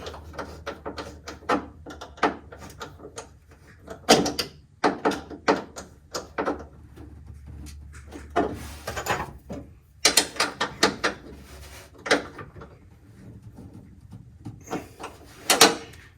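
Ratcheting and clicking of hand tools tightening a radio cable mount on an M38A1 jeep brace, a run of close, sharp mechanical clicks and clanks in irregular bursts with brief pauses between.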